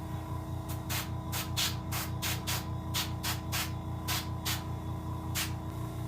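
Paint sprays from an airbrush onto a green sunfish taxidermy mount, a faint steady hiss under a low background hum, punctuated by a dozen or so short bursts of spray at irregular intervals.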